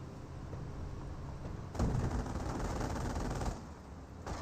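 Sustained .30 cal machine gun emplacement fire in Company of Heroes, a dense rattling burst that swells louder midway and then eases, steady and continuous with no talk over it.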